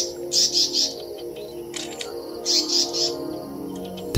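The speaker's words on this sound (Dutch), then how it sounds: "Het zijn paradijsvliegenvangers en die zijn hem liever kwijt dan rijk." Paradise flycatchers give repeated sharp, chattering calls in bursts while mobbing a southern yellow-billed hornbill near their nest in South Africa, loud and close with short pauses between outbursts.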